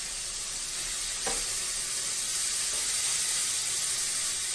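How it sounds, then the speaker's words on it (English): Marinated boneless, skinless chicken thighs sizzle steadily on a Philips HD6371/94 smokeless indoor grill, a close, continuous frying hiss with one faint clink and no talk. "I'm going to cook 2 boneless, skinless chicken thighs that I've marinated."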